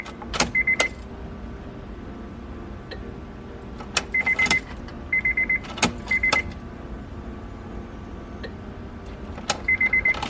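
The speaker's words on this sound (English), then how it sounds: "Putting the key in a couple times, cycle it a couple times because I did dry out the" Honda S2000 with its ignition key cycled repeatedly to prime a dried-out fuel system, giving several bursts of short electronic chimes and whirring pump or motor clicks, close and clear in an otherwise quiet car.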